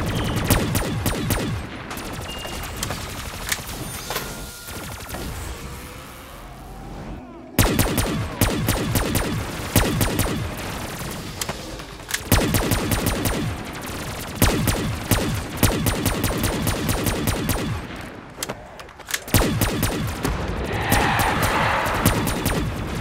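Rapid bursts of gunfire from a small, lightweight gun in Call of Duty Zombies, crackling in dense repeated volleys with a short pause in between, loud and close throughout.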